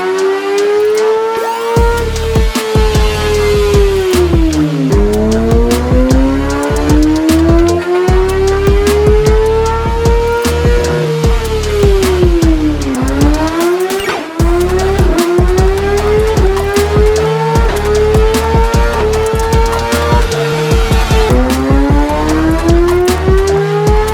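A 2024 Kawasaki ZX-6R fitted with an Akrapovic exhaust revs hard on a dyno, engine pitch climbing steadily through long pulls, dropping, then rising again, loud and close with no talking.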